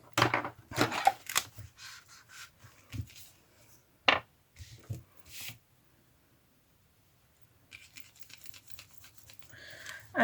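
Scissors snip through junk mail paper in short bursts of crisp cuts, close and fairly quiet, with pauses and light handling rustles between.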